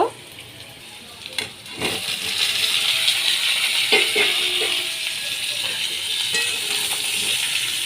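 Ridge gourd sizzles as it fries with onions in a pan, a dense continuous hiss close up, with clatters and stirring knocks in the first two seconds as the pieces go in.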